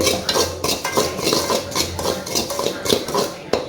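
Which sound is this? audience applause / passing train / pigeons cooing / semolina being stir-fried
semolina being stir-fried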